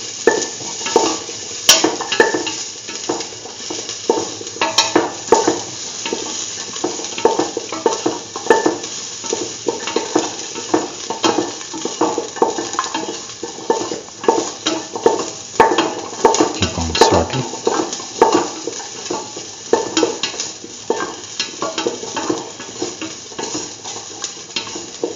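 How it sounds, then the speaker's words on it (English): Shallots sizzle in a pan while being stirred, a steady frying hiss punctuated by frequent scraping and clinking of the utensil against the pan, close and loud with no talk. "Now put in the shallots, salt the shallots till they lose their pinkish color."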